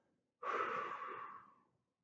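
A single soft, close exhale lasting about a second and a half, heard during a hook-lying core exercise with a resistance band, clear and unaccompanied.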